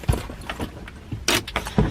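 Keys jingle in short metallic bursts as they are handled beside a car, several bright rattles spread over about two seconds with light thumps between them.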